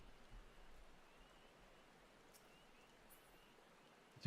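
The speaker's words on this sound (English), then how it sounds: "So dark and rainy right now in the Shroud." Rain falling in the dark forest of the Shroud in Final Fantasy XIV: a soft, faint, steady patter with a few light drop sounds, distant and alone.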